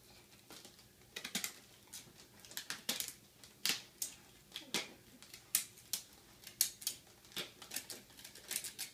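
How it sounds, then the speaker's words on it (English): Scissors cutting gift wrapping paper in a series of close, sharp snips and crinkles at an uneven rhythm, with no talking. "Those are the worst scissors ever."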